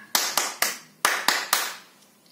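Children at a Sunday school session clap their hands in sharp, separate bursts, about six claps in an uneven counting rhythm, close and clear with no talk over them.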